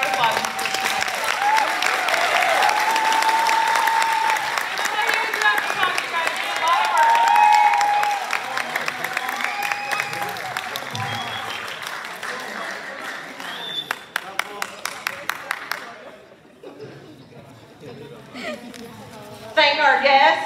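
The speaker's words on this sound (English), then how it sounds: "Big round of applause." Audience applause after a high school musical production, loud sustained clapping from a large crowd that gradually thins out, with some scattered isolated claps near the end.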